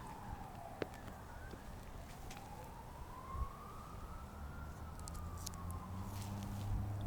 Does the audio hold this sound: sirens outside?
yes